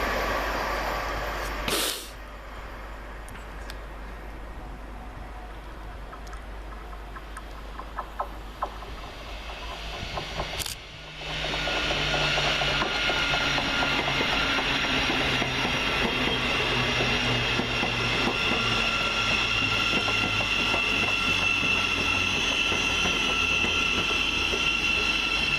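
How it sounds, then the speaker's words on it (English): A Class 801 and a Class 717 pass through Welham Green station, a rushing, hissing rumble that builds suddenly after a brief sharp burst and holds loud and steady for many seconds. "Gliding around the corner is 801-201 and 717-019, working 1 Sierra 19 from London King's Cross to Edinburgh Waverley"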